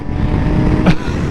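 A BMW K1600 GT motorcycle engine roars close by at steady high revs, a loud continuous growl with a brief sharper burst near the end.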